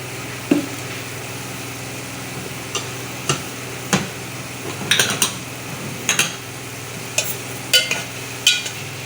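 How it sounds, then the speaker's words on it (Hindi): Masoor dal lentils frying in a pan at home, with a spoon scraping and clinking against the metal in irregular strokes over a soft background sizzle, close and moderately loud, no talking. "अब मैं इसमें ये दाल शामिल करके थोड़ा सा मैं इसको भूनूंगी।"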